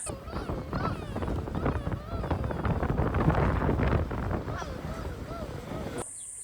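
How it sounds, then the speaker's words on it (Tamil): Strong wind roars across the microphone as a vehicle rides along the road toward a dam, a loud, steady rush with speech and faint horn-like tones mixed underneath. "தேஜு எப்படி வண்டி ஓட்டுறான்னு பாருங்களேன்."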